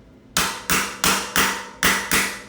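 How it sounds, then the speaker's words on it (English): Six sharp metallic hammer blows drive a T45 Torx socket into the stripped 6mm head of a RockShox Maxle Stealth 15mm thru axle, evenly spaced about a third of a second apart, close and loud with no talking. "Lightly hammer it into the axle."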